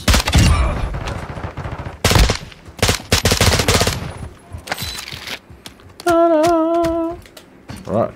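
Call of Duty DMZ gunfire, loud automatic bursts and single shots in irregular clusters, close and sharp, with a chiming tonal game sound and brief voices in between.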